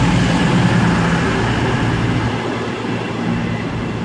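A train rolls through Bristol Parkway station, a loud, steady rumble with rail noise that goes on without a break, with no one talking over it.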